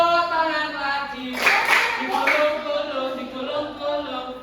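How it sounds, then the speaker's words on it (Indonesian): A brief round of children's hand clapping, a quick cluster of claps in a classroom, sits amid a woman's sung or chanted instructions that continue before and after. "Tepuk tangan lagi."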